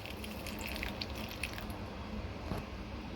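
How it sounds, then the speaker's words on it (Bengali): Water running into a bowl to soak poppy seeds and white mustard seeds for a Bengali fish curry, a steady close trickle with faint drips throughout. "আমি এবার জল দিয়ে ভিজিয়ে দেব পোস্তটাও ভিজিয়ে দিলাম"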